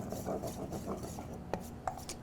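Flour and cornstarch stirred together in a bowl for General Tso's coating, giving a soft continuous scraping and rubbing with a few sharper clicks of the utensil against the side.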